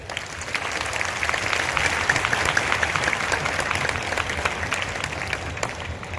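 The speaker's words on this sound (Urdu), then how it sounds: "ماں کے لیے ایک زوردار تالی ہو جائے." A church congregation at a Marian gathering in Mariamabad, Pakistan, claps loudly for Mary's birthday. The applause is steady and sustained for about six seconds, a large crowd clapping with no voice over it.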